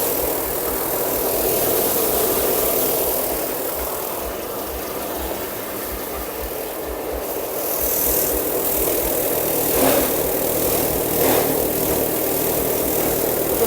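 A rice threshing machine runs during a pre-delivery test, its motor humming in a steady low drone with a rhythmic mechanical throb and a few faint clanks, close and continuous with no voices.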